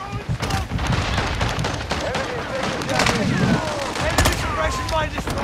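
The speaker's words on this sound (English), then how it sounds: "God, I hate this shotgun, bro." A shotgun fires in a video-game firefight, loud repeated blasts amid other gunfire and explosions, packed densely with hardly a lull, while voices talk over the chaos.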